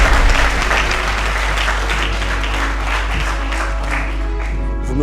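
Sustained applause from a ceremony audience, broad and even for several seconds, many people clapping together at close range before the sound begins to thin slightly toward the end.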